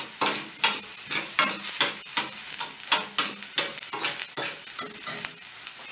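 Ground-meat filling for Turkish muska börek stirred and lightly sautéed in a pan: steady close sizzling with frequent scraping, clattering spoon strokes, no talking.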